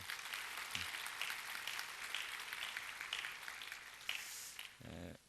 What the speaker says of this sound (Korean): 우리 큰 박수로 환영해 주시길 바랍니다